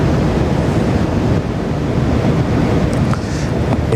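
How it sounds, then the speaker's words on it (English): Steady whooshing of water pushed ahead of a float tube boat on a quiet fishing lake, a continuous close broadband rush with some wind buffeting and faint ticks near the end. "It's almost dead silent, so just the whooshing of the water in front of the boat"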